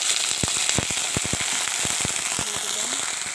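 Ginger-garlic paste and a splash of water hitting a hot frying pan that holds fried potatoes, a loud continuous sizzle broken by rapid crackling pops, close and steady throughout.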